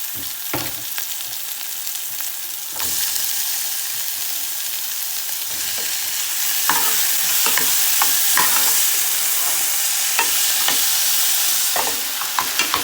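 Chopped tomato and green pepper frying with onions over low heat in a pan with little oil, a steady close sizzle broken by repeated scraping strokes as a spoon stirs the mix.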